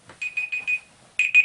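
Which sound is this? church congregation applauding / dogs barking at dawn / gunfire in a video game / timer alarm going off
timer alarm going off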